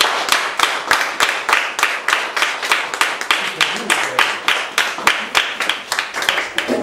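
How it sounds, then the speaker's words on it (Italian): At an animal-rights association's congress, the audience claps for the newly elected officers in a slow, evenly spaced rhythm of loud, sharp, synchronized handclaps that continues steadily throughout. "direi un applauso"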